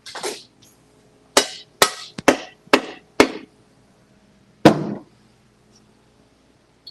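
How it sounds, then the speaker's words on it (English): Sharp metallic hammer strikes driving a bearing cap into place, one then a quick run of four or five blows, a pause, and a final hit, close and loud in a quiet room. "And I'm going to hammer this one on."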